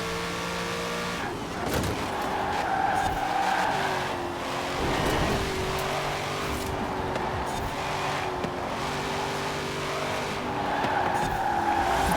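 A C8 Corvette corners hard in Forza Horizon 4, its tires squealing and skidding over a steady, loud engine drone, with the squeal rising and falling through a run of quick corners.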